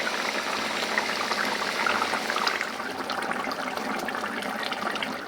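A pot of potato curry bubbles under a lid, giving a continuous soft hiss and crackle of simmering liquid, close and steady with no talking.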